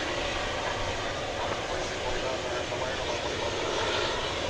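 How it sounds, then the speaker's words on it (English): A CRJ 701ER regional jet takes off from a runway at DFW Airport with a steady, loud, broad engine roar that holds evenly throughout. "So let's see if that plane gets off the runway in time."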